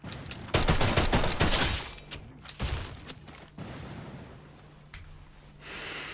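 Bursts of FAMAS assault rifle fire in the Free Fire battle royale during a scrim match, with loud clusters of rapid shots early on, then scattered fainter shots and impacts over game ambience.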